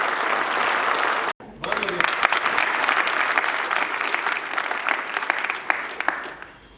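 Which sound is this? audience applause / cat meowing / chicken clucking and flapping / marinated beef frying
audience applause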